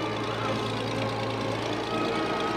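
An old tractor in a county fair parade runs with a steady, close rumbling engine drone that holds evenly throughout, with no talk over it.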